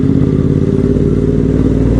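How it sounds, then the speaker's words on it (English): Aprilia Dorsoduro V-twin motorcycle fitted with twin aftermarket Leo Vince exhausts, running close by with a loud, steady, deep thumping engine note and a lumpy low pulse, no talk over it. "this particular bike has I mean, it is a V-twin, so it's going to thump at you a little bit"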